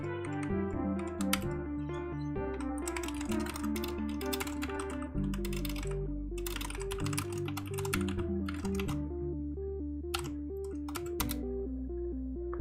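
Rapid keystrokes clatter on a computer keyboard in quick irregular bursts over a faint steady background tone, near and alone, with no talk.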